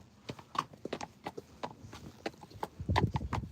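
A horse walking near a stable yard gives clear clip-clop hoofbeats, a steady uneven rhythm of close, sharp strikes over several seconds, without talk.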